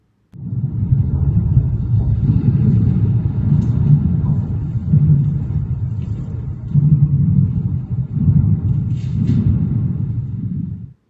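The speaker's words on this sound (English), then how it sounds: "The next clipping was taken from below the underpass." Traffic heard from below an underpass makes a deep, continuous rumble that swells and eases as vehicles pass overhead, loud and enclosed, with no talking.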